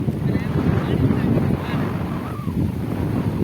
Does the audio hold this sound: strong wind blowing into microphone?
yes